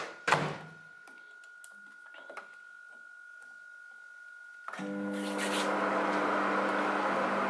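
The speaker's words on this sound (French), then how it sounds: "Ensuite, tu enclenches le micro-ondes." A home kitchen microwave oven starts up: a faint early thunk, a long thin tone and scattered small clicks, then a sudden shift into a steady, loud, continuous hum that carries on to the end.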